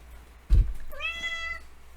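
A house cat lets out a single clear, drawn-out meow close by, after a brief thump, in an otherwise quiet room.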